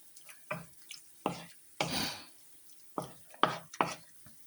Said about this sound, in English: let's just mix this egg into here and see what happens